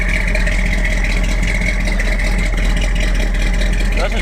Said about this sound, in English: She's idling good.